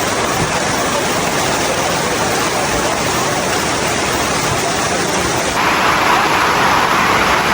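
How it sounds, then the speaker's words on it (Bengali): Steady rain pours down in the Bandarban hill country, a dense broadband hiss that fills the whole stretch without a break, shifting slightly in tone near the end, with no voices over it. "বৃষ্টি হচ্ছে দেখো"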